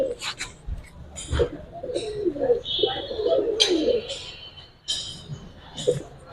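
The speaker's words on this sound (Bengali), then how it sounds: "এখানেও কিন্তু বেশ কিছু কবুতর আছে দেখেন" Giribaz pigeons coo in low, throaty bursts while someone talks over them nearby, with some rustling and sharp clicks in between.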